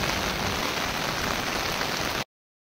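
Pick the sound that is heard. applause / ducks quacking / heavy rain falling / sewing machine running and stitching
heavy rain falling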